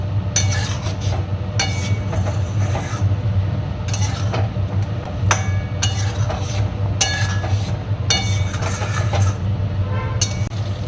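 Food is stirred and mixed in a pan over low gas with a utensil, giving repeated light metallic clinks and scrapes in an irregular rhythm over a steady low background hum.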